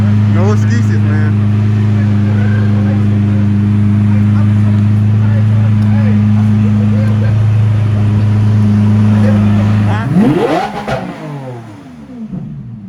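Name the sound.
Lamborghini car driving and revving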